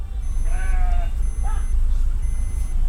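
Sheep from a flock crossing a road bleat a few times, clear and fairly close, over a low steady rumble of idling traffic, with a faint high electronic tone repeating in the background.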